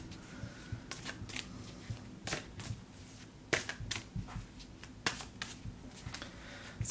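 Tarot cards are shuffled by hand up close, with repeated riffling bursts and soft slaps at an uneven rhythm in a quiet room.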